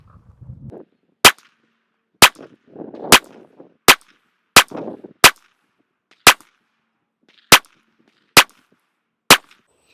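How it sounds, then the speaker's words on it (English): Ten sharp, loud pistol shots from an H&K P30 with an LEM trigger fired at a target. They come singly at irregular intervals of about a second, with faint rustling between them. "we're just going to show what we can do with accuracy in shooting this gun, again, with this LEM model trigger."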